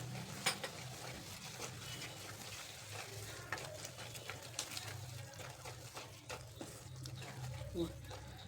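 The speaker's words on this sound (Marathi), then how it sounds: "ह्याला लो फ्लेमवरतीच हलवत राहायचं आहे" A coconut and milk powder mixture being stirred in a pan on low flame for coconut vadi, with a soft continuous scraping and faint sizzle, spoon scrapes recurring steadily under a quiet room hum.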